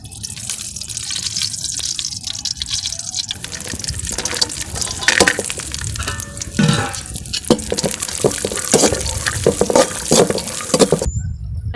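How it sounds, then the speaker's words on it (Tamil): Cashews and raisins frying in ghee in a pan for rava kesari, a steady sizzle with stirring and occasional clinks running continuously up close, no talk. "நெய்யில் முந்திரி திராட்சை வறுத்து எடுத்துக்கலாம்."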